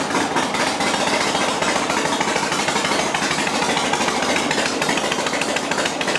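A 1971 Harley-Davidson XLCH motorcycle engine runs after a kick start, a steady, loud, dense rumbling clatter with no pauses, heard up close and alone without any talk.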